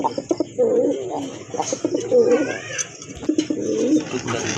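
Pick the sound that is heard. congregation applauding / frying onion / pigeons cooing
pigeons cooing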